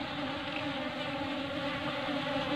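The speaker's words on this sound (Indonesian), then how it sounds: "untuk sekarang ini memang lebah drone-nya atau lebah pejantannya lagi banyak banget ini" Drone bees, male honeybees, buzz around a hive box set in a garden, giving a steady, close, droning hum with a few louder passes and no talk.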